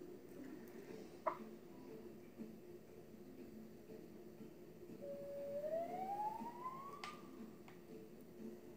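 Police siren in the Fortnite video game, a faint rising wail that sweeps upward over a couple of seconds beneath a low background hum, with a few soft clicks.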